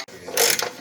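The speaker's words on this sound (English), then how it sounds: "Need to remove the two front motor mount bolts from the cross member, 16 millimeter" A ratchet clicks briefly and closely as it works on a 16 mm motor mount bolt on a 2014 Jeep Patriot's cross member, a short burst of rapid metallic pawl clicks.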